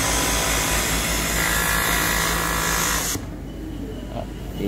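An overlock serger sewing machine runs at steady high speed with a dense whirring buzz, then stops and leaves quieter room noise; no voices.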